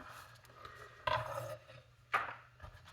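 A heavy 352-gram vintage chef knife cuts through a thick-cored carrot, giving two sharp cracking snaps about a second apart, close and fairly quiet over a low background hum.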